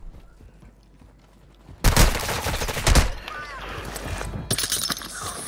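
Gunfire in a Call of Duty match: sudden loud bursts of close shots and fusillade erupt after a quiet stretch, then continue in rattling volleys mixed with game noise, with faint talk in the background.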